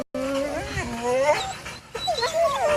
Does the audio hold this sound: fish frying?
no